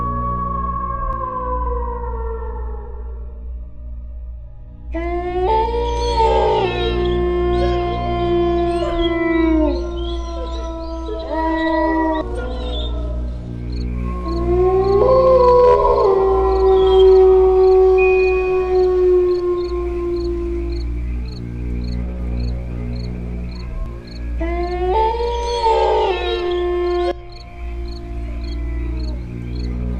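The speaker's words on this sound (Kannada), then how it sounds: "ಯೋಗಿ, ನಾಯಿ ಎಲ್ಲ ಸೌಂಡ್ ಮಾಡ್ತಾ ಇದೆ" Dogs howling at night, several long wavering howls rising and falling together in bursts across the clip, fairly close and loud over a steady low hum, with no talk.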